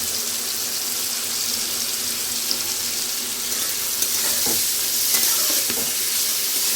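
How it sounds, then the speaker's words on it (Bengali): Bombay duck fish frying in a pan with salt and turmeric, a steady dense sizzle throughout with occasional faint scrapes of stirring; no voices. "ভালো করে ভেজে নিচ্ছি, লবণ দিয়ে দেবো, লবণ দিয়ে দিচ্ছি, হলুদটাও দিয়ে দিচ্ছি।"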